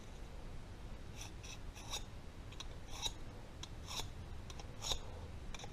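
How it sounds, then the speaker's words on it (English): A tool scribing lines on a 25 mm thick titanium knife blank, giving a few short, faint scratchy strokes spaced about a second apart over a quiet background hiss. "I'm just going to be scribing out how far I want to take everything"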